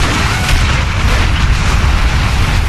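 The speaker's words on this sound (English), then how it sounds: "Grenade!" A grenade blast in the video game BroForce: a loud, sustained booming roar with heavy low rumble filling the whole stretch, with no voices over it.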